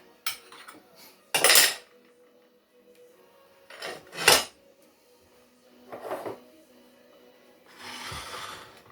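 A hot pan and metal utensils handled while cooking a gluten-free turkey pan pie: sharp clanks and cutlery clatter come in separate bursts, close and fairly loud between quiet gaps, with no voices.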